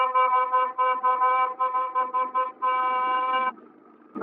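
A car horn sounds as a signal to overtake, blaring in a series of loud, steady honks with short gaps, ending in one long sustained blast that cuts off abruptly.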